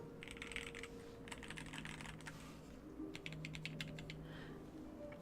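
Quiet, brisk typing on an inductive mechanical keyboard fitted with its stock keycaps comes in short bursts of rapid clacks separated by brief pauses, heard close up with only faint background hum.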